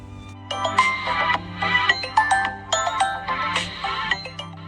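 A phone ringtone rings loud and close in the early morning, a bright melodic chime repeating in short bursts, with no talking over it.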